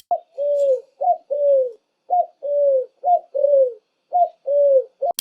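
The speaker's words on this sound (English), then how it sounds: "Their cooing sound is soft and calm. Dove sounds like coo coo." A dove coos alone in a soft, calm rhythm, a series of about a dozen low, rounded notes in short paired phrases with brief pauses between them, close and clear.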